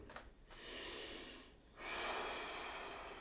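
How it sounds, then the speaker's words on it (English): Slow, audible breaths held in a seated hip and spine rotation stretch, a noisy exhale-like rush early and another long steady breath from midway on, close and fairly quiet with no talking. "Breathe in this position."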